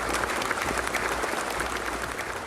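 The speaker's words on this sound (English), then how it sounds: "All of the political establishment of the country welcomes him with a long applause" Sustained applause from a large audience of officials welcoming the president of Kazakhstan, Kassym-Jomart Tokayev, on his arrival at a venue. The clapping is dense, steady and loud throughout, with faint crowd murmur under it.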